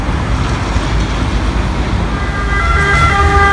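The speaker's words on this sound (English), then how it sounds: "I don't know how many ambulances I've heard today, but there's been so many." Ambulance siren in Rome near the Circus Maximus, a faint tonal wail emerging late over steady loud traffic and street noise, with no talking.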